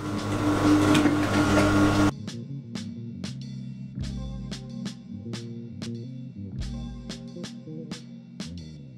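A sewing machine stitches lining to fabric along a half-inch seam on a crop top, with bursts of rapid mechanical clattering that start and stop several times after a brief louder noise at the start.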